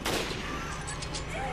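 Gunfire in the video game Resident Evil Revelations, a fairly quiet burst of shots and impacts under game noise, with no clear separate shot counts.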